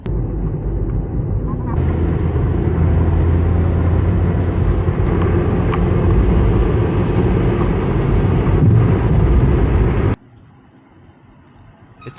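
A car travels along the road on a long drive from Pennsylvania to the Oregon coast, making a loud, steady broadband road and engine drone that cuts off abruptly near the end.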